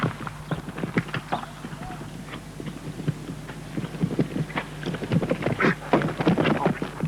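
Horse hooves thud in an uneven rhythm during a show jumping gymnastic exercise over cavaletti and poles, a series of dull close thumps that grow denser and louder toward the end over steady background hum.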